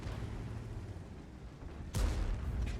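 A tank cannon fires in World of Tanks with a single sudden loud boom that rolls into a low rumble, following quieter background engine noise.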